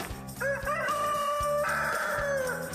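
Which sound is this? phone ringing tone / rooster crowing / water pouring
rooster crowing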